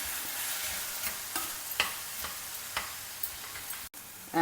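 Onions, slit green chilli and chopped tomatoes stir-fried together for a South Indian sprouted peas kurma, a steady sizzle broken by several scraping stirs of a spoon, close and moderately loud with no talking.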